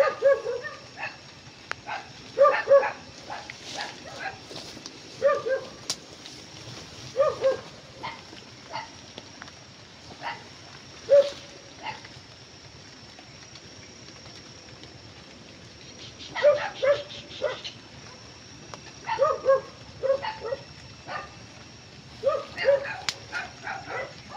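A dog barks near a house at night, the barks coming in repeated bursts of several yelps separated by pauses, moderately distant against a quiet background.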